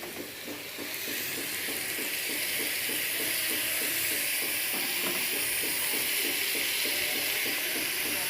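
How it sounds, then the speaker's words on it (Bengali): Spices fry in a pan as cabbage goes in for a Bengali cabbage dish. A loud, steady sizzling hiss fills the scene, with a quick rhythmic scrape of stirring underneath and no talking. "মশলা কষানো হয়ে গেছে আমার। এবার ওতে বাঁধাকপিটা দেবো।"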